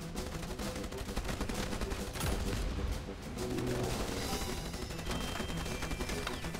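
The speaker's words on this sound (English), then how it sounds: "Whoa, that's a missile, bro!" Missiles and guns firing and exploding in a shooter video game, with dense continuous bursts of gunfire-like blasts and booms throughout, loud and busy with no pauses.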